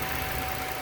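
A steady engine idles close by, a smooth continuous rumble with a faint mechanical hum and no voices.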